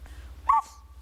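A voice imitates a dog bark as one short, strained yelp, close and alone in a quiet room.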